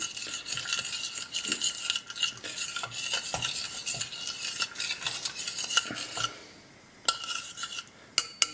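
Sesame seeds toasting in a pan are stirred steadily with a utensil, close and continuous scraping and rattling with small clinks, pausing briefly near the end before a few final scrapes.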